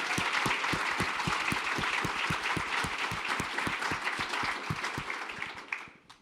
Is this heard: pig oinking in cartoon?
no